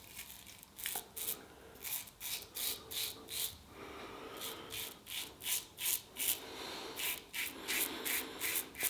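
A Wilkinson Sword Flip-Top double-edge razor scrapes through Benny's of London shaving cream in a steady series of short, close, quiet rasping strokes, about two per second, with no speech.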